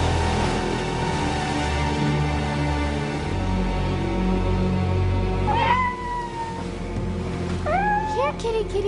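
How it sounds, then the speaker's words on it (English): A cat meows in a few rising, wavering calls partway through, layered over a steady dense background of music and ambient sound. "Here, kitty, kitty, kitty."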